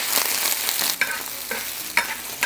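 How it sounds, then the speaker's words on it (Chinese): Chopped pork fat frying in a hot wok with a little oil, a continuous close sizzle punctuated by a few sharp scraping stirs at regular intervals. "再把前面切好的肥肉放入锅中，"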